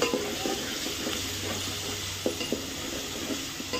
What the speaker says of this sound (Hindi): तेल में अच्छे से फ्राई करेंगे वटाने को।